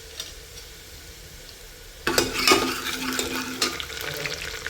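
Garlic dropped into a pan, a quiet low hum that bursts into a loud, close sizzle about halfway through, with crackles and a few stirring clinks after, no talking.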